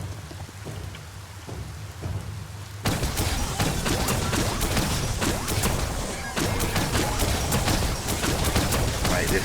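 Gunfire from a weapon in the video game Biomutant: after a quieter opening, a dense, continuous barrage of sharp crackling shots erupts and keeps up steadily at close range.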